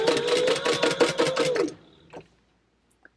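A sewing machine runs a fast, steady burst of stitching along a seam on a leather Fender wallet, set at a 4-stitch length. It stops after about a second and a half, followed by a few faint clicks and handling noises.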